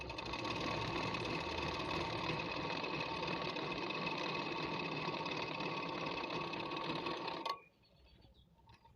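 A sewing machine stitching a salwar runs at a fast, steady whirring pace for about seven seconds, close and continuous, then stops abruptly, leaving faint room noise.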